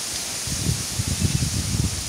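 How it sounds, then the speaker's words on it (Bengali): Strong wind blows outdoors in a village as dust rises and clouds gather, producing a soft, steady rush with low buffeting gusts on the microphone throughout. "প্রচুর বাতাস উঠে গেছে, এই দেখেন কি পরিমাণে বাতাস,"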